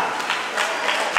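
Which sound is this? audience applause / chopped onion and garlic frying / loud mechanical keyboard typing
audience applause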